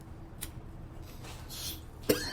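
A single faint cough after sipping Krampus schnapps in a quiet room, with a sharper throat-clearing burst near the end.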